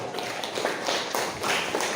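Students clap their hands in a classroom, giving a dense, steady patter of applause for about two seconds with no voices.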